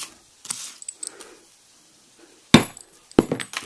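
Marker holes punched into a leather dog collar, a few light taps and scrapes followed by two sharp metallic strikes, close up with quiet gaps between.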